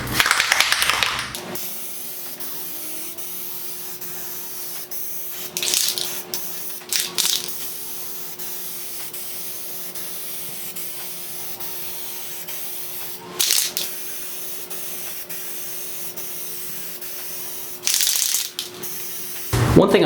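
Short bursts of hissing Plasti Dip spray from an aerosol can onto a 1954 Ford truck, several separate blasts with quiet pauses between them, close by.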